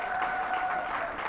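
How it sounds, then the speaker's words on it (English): Audience applause at a lecture event on the Astrological Bible Code, steady dense clapping throughout, fairly loud and without talk. "Give me another round of applause."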